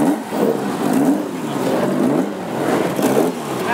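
Hot rod car engine at a classic hot rod pit event, a steady rumbling idle that swells and dips with gentle revs, loud and close, no talking.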